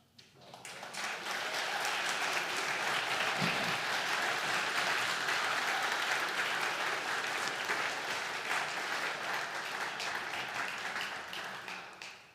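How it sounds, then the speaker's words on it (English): An audience at an Art House Dallas event claps after a talk, the applause swelling quickly into a full, sustained ovation of many hands that holds evenly before fading at the end. "Thanks for clapping"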